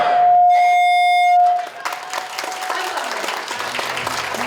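Korean attendees applaud at the inauguration of the 36th Chicago Korean Association, a dense burst of clapping that settles into steady, sustained applause from a crowd filling the room.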